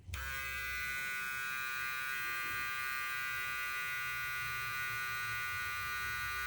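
A steady JRL Onyx SF Pro electric foil shaver hum at 8,000 RPM runs throughout, an even, quiet buzzing drone with a faint high whine, close and continuous with no talking.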